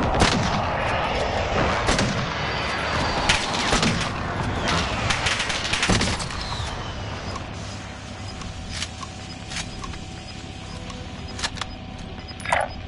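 Artillery barrage in the video game Rebirth-Alive landing on a marked target: repeated heavy booms and crackling blasts through the first half, thinning to scattered distant reports over steady battle noise, with one last sharp hit near the end.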